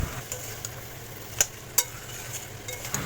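Mutton curry with fried potatoes is stirred in a pan, giving a faint sizzle under a few sharp clinks of a spoon against the metal.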